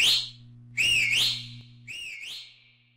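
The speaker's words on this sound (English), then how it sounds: "The whistle will play a loud sound which spreads up to 150 blocks just in case the players lose each other." A whistle item in a Minecraft Backrooms mod blows three shrill, gliding blasts, the first short, the second longer with a wavering pitch, the third softer and fading out.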